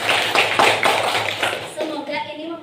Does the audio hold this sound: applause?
yes